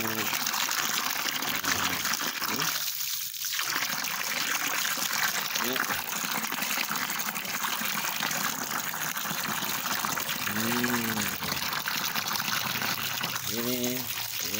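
Steady running water streams continuously over shrimp being rinsed, with occasional short bursts of a voice and clatter over it.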